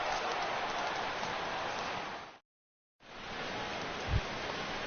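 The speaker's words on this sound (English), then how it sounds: "the rain continues to fall here" Steady rain hisses through an MLB baseball video game, a continuous even wash that cuts out briefly for about half a second before resuming, with a soft low thump near the end.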